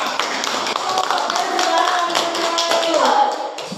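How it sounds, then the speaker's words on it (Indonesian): Applause in an elementary classroom as students clap for classmates who just presented, a dense, steady patter of many hands at close range that swells slightly before tapering off. "Tepuk tangan yang meriah untuk teman kalian semua."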